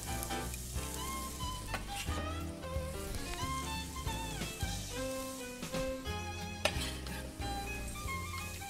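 Chopped onion and garlic frying in hot oil in a pan for a salmon marmitako, a steady bright sizzle and crackle running continuously, close and fairly quiet, with no talking.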